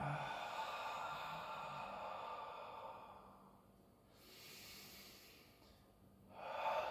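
Slow, deep breaths are drawn in and let out during a guided breathing exercise. A long, airy inhale is followed by quieter exhales, all soft and close, with no voice over them.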